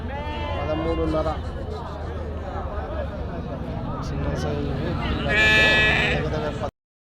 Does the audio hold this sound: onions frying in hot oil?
no